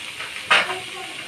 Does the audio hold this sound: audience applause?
no